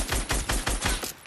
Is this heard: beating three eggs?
no